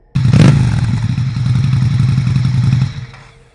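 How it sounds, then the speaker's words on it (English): A motorcycle engine runs loudly and close by in the middle of the night, starting abruptly with a sharp roaring burst, holding a steady rumbling idle for a few seconds, then cutting off and fading into quiet. "I was jolted awake by the unmistakable sound of a motorcycle engine."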